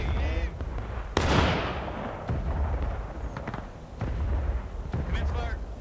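A musket volley in the Civil War game War of Rights: a loud, sharp burst of massed gunfire with a long rumbling tail, surrounded by shouted commands and scattered distant shots.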